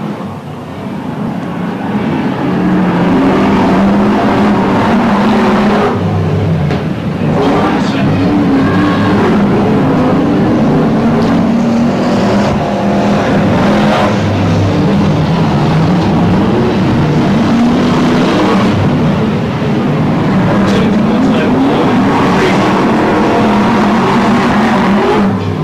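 BriSCA F1 stock cars roar around an oval track in 1991, their loud, sustained engine drone swelling and fading as the cars pass, with voices underneath.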